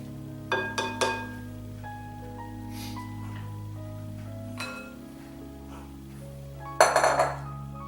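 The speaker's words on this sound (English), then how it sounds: "So just working with these two spatulas makes it really, really easy." Two spatulas clink and scrape against a dish while working rhubarb pie dough, a few quick taps near the start, a quieter tap mid-way and a brief cluster of sharper clinks near the end, over low steady background hum.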